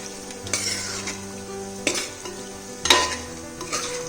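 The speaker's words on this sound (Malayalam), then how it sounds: "നന്നായിട്ട് ഇനി ഇളക്കി യോജിപ്പിക്കാം" A spoon scrapes and clinks at intervals through Kerala chicken roast (chicken varattiyath) in a pan, set over a continuous close sizzle, with no voices.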